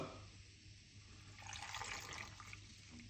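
Water running and pouring into a container while making a cucumber juice drink, a steady close splashing flow that rises and brightens midway, with no voices.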